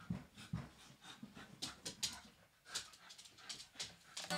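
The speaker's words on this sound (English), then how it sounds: "Dogs aren't tired, though, are they, clearly?" Dog panting in quick, uneven bursts of breath, fairly close, with faint whimpering noises and some low background rumble and no talk over it.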